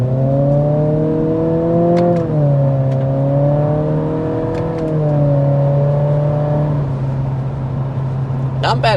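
A 2024 Acura Integra with a CVT accelerating in sport mode with paddle-shifted simulated gear changes, heard from inside as a steady, loud engine drone whose pitch climbs and drops at each shift.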